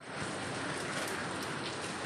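Rain falls steadily under a dark sky as an even wash of patter, with no voices over it.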